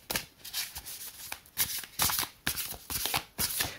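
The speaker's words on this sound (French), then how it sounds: "il faut que je m'installe pour mélanger les cartes comme ça." Tarot cards being shuffled by hand, a rapid run of crisp riffling and slapping bursts repeating in quick irregular rhythm, close and clear with no talk.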